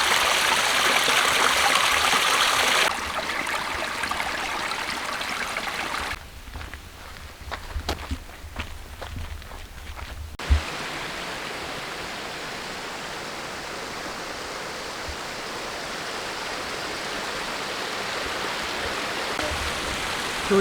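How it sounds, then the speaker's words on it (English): A waterfall in the Scottish countryside roars as broadband rushing noise, loud and close at first, then muffled for a few seconds, and continuing as a steady wash, with a few footstep-like thumps and no talking. "Another nice waterfall."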